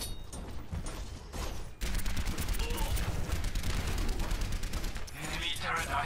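Bastion's turret in the video game Overwatch unleashes a sustained, rapid stream of loud gunfire after a brief lull, with other battle noise and a voice talking underneath.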